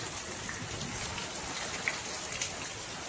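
Steady village rain falls on surfaces during an unseasonal summer downpour, a dense, even patter with a few sharper drops standing out, continuous and fairly quiet, with no voices.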